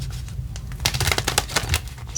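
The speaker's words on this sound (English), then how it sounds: "Okay, they asked to shuffle one more." A deck of tarot cards being shuffled by hand, a quick run of crisp riffling flutters and taps, close and clear, building in density toward the end.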